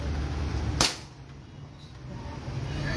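A single sharp gunshot fires outdoors at a firing range, a loud close crack that fades quickly into low background rumble.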